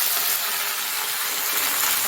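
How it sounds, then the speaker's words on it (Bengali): Dried fish sizzling in hot oil in a wok, a dense, steady, loud hiss with no pauses, close up. "তেলটা গরম হয়ে গেছে, এখন এর মধ্যে দিদি শুটকি মাছটা ছেড়ে দিচ্ছে।"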